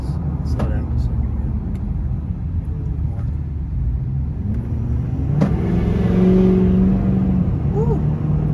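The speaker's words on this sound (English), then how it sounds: "these truck guys must really like that turbo whistle because man, it sounds nice" Lifted Ford F-250 Lariat diesel truck accelerating, its turbo whistle rising as a thin tone over a steady, heavy engine rumble heard from inside the cab, with a voice briefly chiming in near the end.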